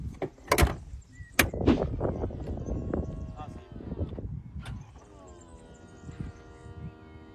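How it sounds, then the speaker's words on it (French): Electric folding roof of an Aston Martin V8 Roadster convertible opening, with mechanical clunks and clicks early, then a steady motor whir; people talk over it throughout. "Si tu veux la décapoter, vas-y."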